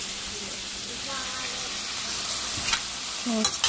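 Food sizzles steadily in a frying pan while being stirred, with a few sharper scrapes of the utensil near the end, close and continuous throughout.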